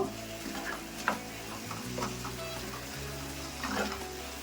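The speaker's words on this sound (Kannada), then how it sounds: "ಇವಾಗ ಇದನ್ನು ಚೆನ್ನಾಗಿ ಫ್ರೈ ಮಾಡ್ಕೋಬೇಕು" Tomato with coriander and mint leaves frying in a pan makes a soft, low sizzle with a few light stirring knocks and scrapes, fairly quiet and close, with a faint background hum.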